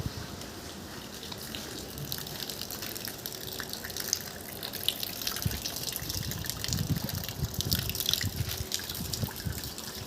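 Water pouring from above into a large tank makes a continuous gushing splash with heavier surges midway, steady and close, with no voices.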